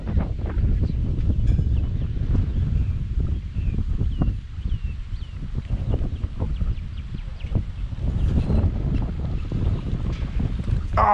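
Strong wind buffets the microphone beside a tannic, swampy bass pond in Florida, a loud continuous rumble with gusty surges and faint water lapping, no voices.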